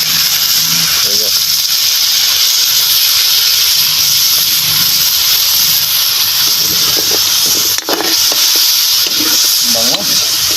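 Goat kaldereta ingredients sauté in a hot pan with fish sauce added, giving a steady loud sizzle and hiss with scraping stir strokes throughout; a voice speaks intermittently over the cooking.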